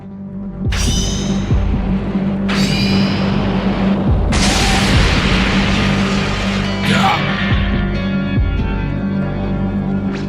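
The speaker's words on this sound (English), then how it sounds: "An explosion intervenes and takes priority over the situation." Dragon Ball video game explosion: a series of loud, booming bursts with rumbling debris over a steady low hum, several sharp blasts spread across the span and mixed with game music.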